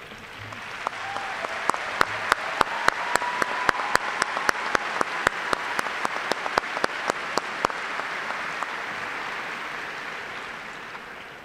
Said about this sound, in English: please join me in showing your appreciation for these very important people in your lives with a generous round of applause